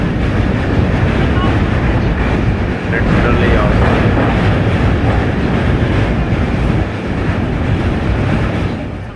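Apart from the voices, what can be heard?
train moving through a railway yard near Mughal Sarai junction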